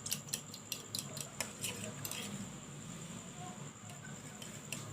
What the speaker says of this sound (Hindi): 3 अदद अंडे ऐड करूँगी। वन टीस्पून नमक ऐड कर रही हूँ। इसको अच्छी तरह से मिक्स कर लेना है।